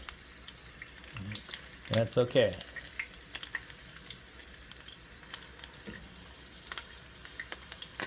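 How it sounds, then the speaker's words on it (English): Hamburger meat tacos frying in a pan, a quiet, crackling sizzle running throughout, with a brief louder burst of spattering as a taco is turned; a few words are spoken briefly. "frying them up"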